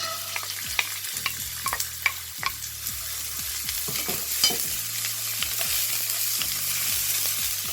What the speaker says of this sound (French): je viens verser mes petits pois dans la poêle